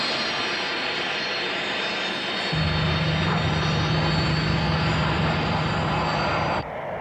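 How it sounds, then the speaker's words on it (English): Several fighter aircraft pass over the outskirts of an airfield: a loud, sustained jet-engine roar builds and holds as they fly overhead, then cuts off abruptly. "we have diverted these fighters and they are about to overfly the outskirts of this airfield"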